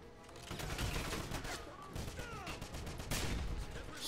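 Rapid gunfire from a Wolfenstein shooter as the player fires on German soldiers, dense sustained bursts mixed with game effects and distant crackle, continuous and moderately loud throughout.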